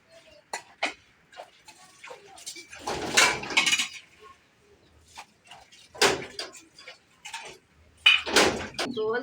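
Pots, pans and dishes being washed in a village during light rain, with intermittent close clinks and clatters of metal and crockery in irregular bursts.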